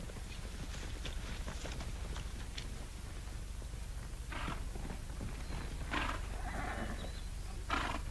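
Horses from an Annie Oakley western episode clip-clop along in a steady walking rhythm against a constant low rumble of background noise, with a few sharper knocks near the end.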